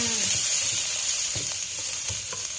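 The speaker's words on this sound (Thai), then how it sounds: "เดี๋ยวเรามาทำการผัดผัดเป็นหอมนะคะ ผัดให้หอมเลยค่ะ" Thai red curry paste for a fish noodle curry being stir-fried in a hot pan gives a steady, close sizzle with soft scraping stirs running throughout.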